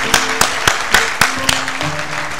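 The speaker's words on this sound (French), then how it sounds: "Sous vos applaudissements." Audience applause welcoming a professor at a formal tribute ceremony, a steady wash of many hands clapping, with a few sharper close claps standing out at regular intervals, and no voices over it.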